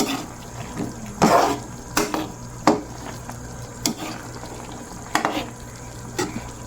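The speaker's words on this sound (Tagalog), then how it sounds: "Yan natin po munang haluin. Para umilalim yung" Squid adobo with eggplant stirred in a pan, a spoon scraping through it in several separate strokes over a low, steady sizzle, close and clear with no one talking.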